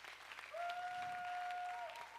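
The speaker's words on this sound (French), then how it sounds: "Ça mérite des applaudissements, s'il vous plaît." An audience at a festival stage talk breaks into applause, a steady wash of clapping from a crowd that sounds fairly distant and soft, with a brief sustained tone running through it.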